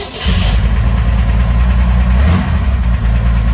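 A Corvair van's engine runs with its engine cover removed, a loud, steady close-range rumble that fires up and holds a continuous idle with slight revving throughout.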